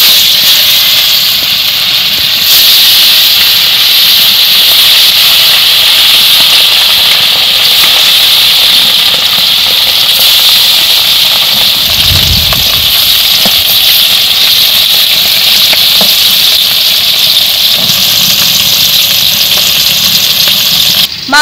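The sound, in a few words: turmeric and salt coated silver carp fish frying in hot oil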